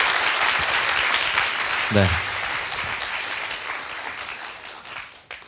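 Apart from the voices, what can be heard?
audience applause after a lecture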